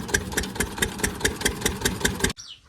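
A tractor engine, just repaired after being opened up and fitted with a new plate, runs on test with a steady rhythmic chugging beat, then stops abruptly near the end.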